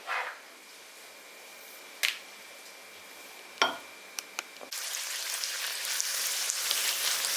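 Poori drops into hot oil and bursts into a loud, continuous sizzling hiss partway through, after a few quiet clicks and taps against a near-silent background.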